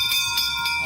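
A ferry's bell rings out bright and metallic, with a few quick repeated strikes ringing over a noisy background.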